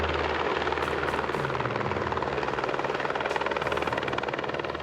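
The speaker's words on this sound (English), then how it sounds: "Edging the chopper nose in as close as possible, she has to be careful that her blades don't strike the rock." A rescue helicopter hovers close to a rock face in strong wind, its rotor beating in a loud, steady, close throb that runs through the whole stretch without talk.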